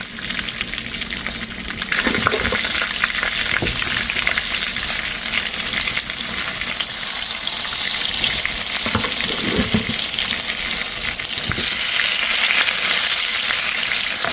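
Eggplant pieces rubbed with turmeric, salt and chili fry in a generous amount of oil for an Eid korma, giving a steady, loud sizzle with occasional stirring clatter and no voices.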